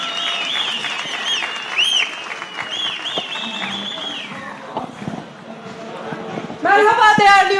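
A crowd at a political rally in Ankara claps and cheers as a speaker is invited on stage. Whistles and a public-address voice are heard early, then the applause surges loudly near the end.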